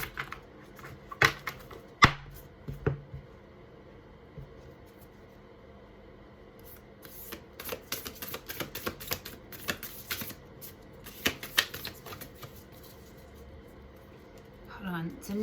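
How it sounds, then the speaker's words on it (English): Newer tarot deck being shuffled by hand, giving bursts of crisp riffling and card slaps, sparse at first then dense and rapid in the second half, close up with a person talking throughout. "help it along with the shuffling so they don't stick together"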